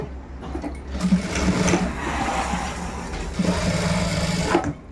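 A sewing machine stitching the hem of a blouse, a loud close mechanical whir with rapid needle chatter running nearly the whole time, dipping briefly midway before resuming.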